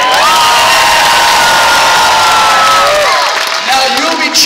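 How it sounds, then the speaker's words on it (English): A large arena crowd at the PNE cheers loudly for a Canadian competitor, a dense roar of shouts and whoops that holds steady, then thins slightly near the end as individual voices and a whistle-like yell stand out. "you will be cheering for a Canadian here today"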